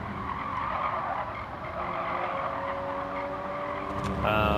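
Race car tires squealing hard on a corner exit, a sustained high screech layered over a steady engine drone, rising sharply in the final half second.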